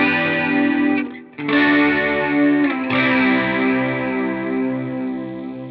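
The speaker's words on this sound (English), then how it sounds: "Phaser, flanger, and chorus." Sustained electric guitar chords swirling with a sweeping, shimmering modulation effect from phaser, flanger and chorus pedals, loud and close, briefly cut off then ringing out again.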